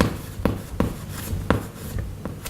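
Chalk or marker writing on a classroom board, a steady scratchy drag broken by a few sharp taps as strokes start, close and alone with no talk.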